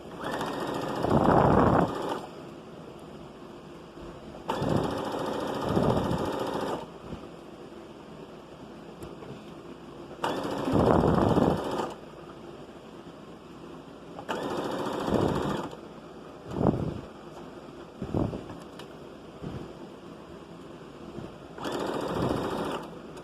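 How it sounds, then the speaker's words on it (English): A sewing machine top-stitches a ruffle dress in several separate runs of rapid mechanical whirring, each lasting a second or two, with quiet pauses between and a few brief bursts near the end. "When you top stitch, you do not actually need to back stitch."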